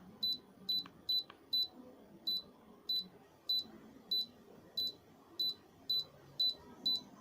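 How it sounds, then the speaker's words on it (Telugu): A series of short, high electronic beeps from a Daikin air conditioner control board, signalling an error code, repeats at a steady pace, roughly every half second, over a faint background hum. "లాంగ్ బీప్ వినపడుతుంది చూడండి కావాలంటే"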